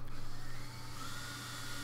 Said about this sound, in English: And that's a drill.